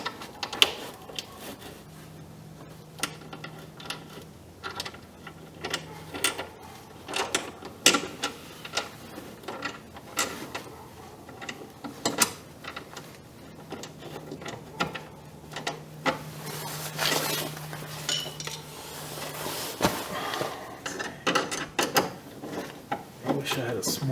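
Screwdriver work on RokBlokz mudflaps being fitted to a 2019 Subaru STI, heard as irregular clicks, scrapes and ratcheting knocks, with occasional talk.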